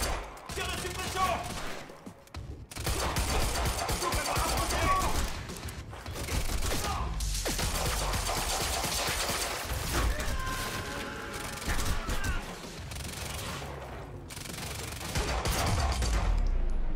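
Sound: suppressive gunfire in the video game Quantum Break

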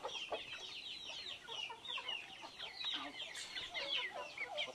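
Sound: free-range chickens clucking at feeding

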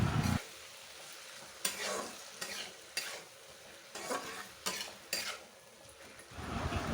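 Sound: teasel gourd (kakrol) frying in a pan

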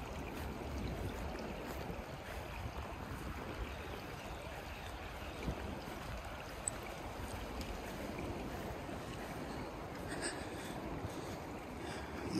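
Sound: large river flowing

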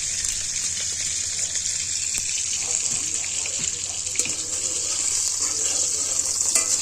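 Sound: garlic frying in oil

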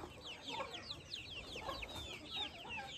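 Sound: free-range desi chickens clucking

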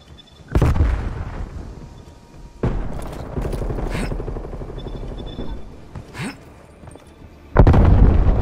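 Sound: cruise missile explosion in Call of Duty Black Ops Cold War video game

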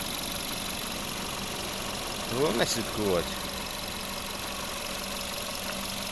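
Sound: Seat Ibiza 1.4 turbo engine idling

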